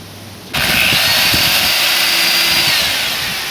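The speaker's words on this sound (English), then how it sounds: "So now we just take our drill. We're going to drill one pilot hole" A power drill drilling a pilot hole while installing an ignition on a Porsche 912 whirs up abruptly and runs at a steady high whine for a few seconds, loud and close, with faint bumps beneath.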